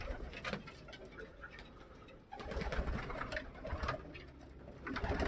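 Pigeons in a loft with open, connected boxes coo steadily at close range while feet and wings patter and shuffle, with a burst of louder activity partway through.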